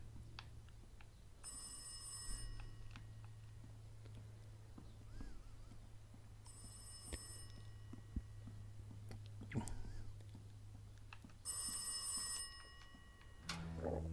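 A telephone rings in the horror video game Rise of Insanity, three separate bursts of bright trilling rings spaced a few seconds apart over a low steady hum, fairly faint, with small clicks between.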